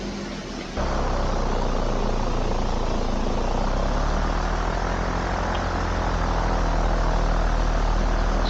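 Steady, loud, continuous propeller aircraft engine drone from an X-Plane 11 flight simulation, taxiing at an airport toward a hangar, with a sharp step up in level near the start and then a constant roar.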